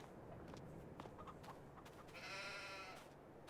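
A sheep bleats once, faint and wavering, over a low ambient bed on a farm with sheep herds and chickens in Farming Simulator 22.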